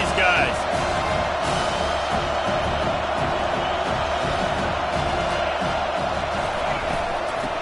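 Steady, loud roar of a stadium crowd at a Miami versus Notre Dame college football game, a continuous wash of noise under a commentator's voice.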